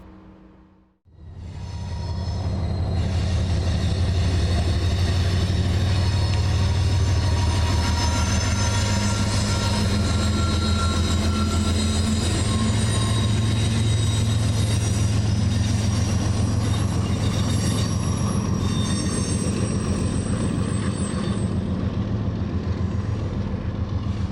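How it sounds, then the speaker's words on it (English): A railway geometry train coming from Topeka rolls past close by, a loud, steady rumble of wheels and cars with high squealing tones, sustained for the whole stretch without any voices. "I did manage to see a geometry train coming from Topeka."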